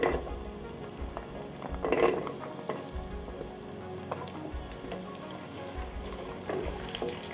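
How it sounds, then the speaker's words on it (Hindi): Cauliflower, carrots, beans, paneer, potatoes and peas tipped into a cooker of frying ginger and garlic for veg biryani, giving a steady moderate sizzle with stirring scrapes and a few pot clinks, no talk. "अब यहाँ पे हमने कुछ सब्जियाँ ली हुई है, फ्लावर, गाजर, बीन्स, पनीर, आलू, मटर। अब इन सबको भी हम डाल देते हैं।"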